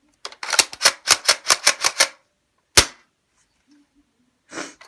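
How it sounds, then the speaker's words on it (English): A Mossberg tactical shotgun kit, likely a toy with a hop-up, fires a rapid string of about eight sharp snapping shots, then one louder single shot after a pause, close and loud with no talk over it. "This is my new favorite gun."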